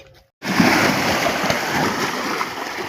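Cattle wade and drink at a village pond, and a sudden burst of continuous splashing, sloshing water starts after a brief quiet moment and stays loud and close to the end.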